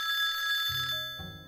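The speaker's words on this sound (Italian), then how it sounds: "Il cellulare squilla." A mobile phone rings with a bright electronic tone that changes pitch twice over about a second and a half, moderately loud and with no one speaking.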